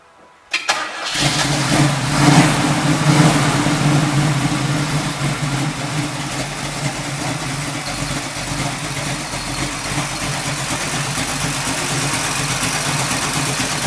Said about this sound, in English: I also want to start it up so Sam can hear it run with this Mutha Thumper camshaft.